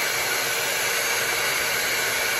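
A Dyson-style dupe hair dryer blows in a loud, steady whoosh, constant and close throughout with no other sounds.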